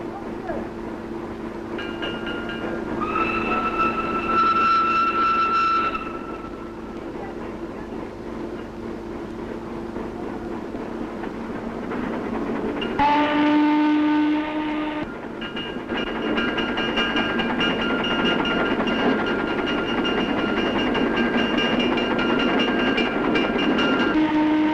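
Industrial rail sounds from a documentary film about a mining and factory region: a train rumbles and clatters steadily while horn or whistle tones sound in several sustained blasts, loud and close, layered over continuous mechanical noise.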